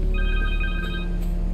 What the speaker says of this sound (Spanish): Un teléfono.